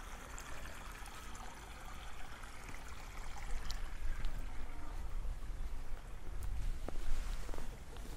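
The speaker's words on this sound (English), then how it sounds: "Oh, it's a babbling brook." A babbling brook in Matsudo's 21st Century Forest Park in Japan gurgles and trickles steadily at moderate distance, with faint footsteps along a path and no talking.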